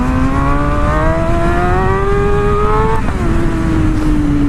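A motorcycle engine revs hard under a steady throttle to lift into a wheelie. Its pitch climbs smoothly for about three seconds, dips sharply, then settles into a loud, close drone.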